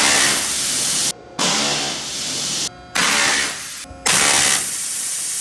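A 60,000 PSI waterjet cutter fires in loud, steady hissing bursts, three of them separated by brief gaps, with no talking.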